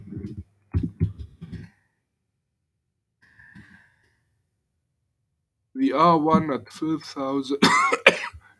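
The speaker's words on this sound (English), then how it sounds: "Sorry about my coughing, but everybody here is having a cough." A person coughs several times in quick bursts, close and fairly loud, then falls quiet before speaking.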